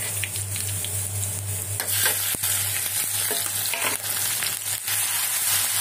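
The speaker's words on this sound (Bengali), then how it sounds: "এই গ্যাসের চুলায় আমি এখন মাংসটা বসিয়ে দিয়ে" Meat frying on a gas stove gives a steady, loud sizzle with a low hum beneath it and occasional brief clatters of stirring, and no voices are heard.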